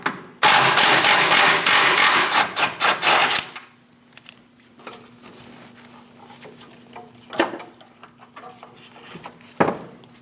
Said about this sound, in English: Using a 13mm socket, remove the bolt for the bracket.